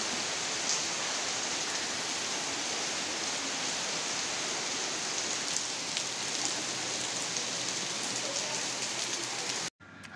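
Heavy monsoon rain pours down steadily, a dense, even hiss of drops on surfaces filling the scene for about ten seconds before it cuts off abruptly near the end.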